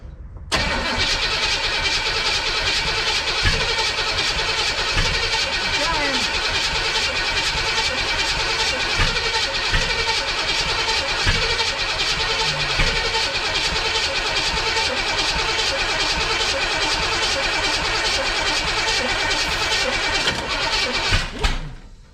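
A 1962 Chevrolet Impala engine, primed with brake cleaner, cranks and runs in a loud, steady, close-up roar that holds for about twenty seconds before cutting off, with no voices.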